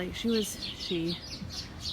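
Hen sitting on its nest in a coop gives two short, close tonal clucking calls, with soft rustling between them.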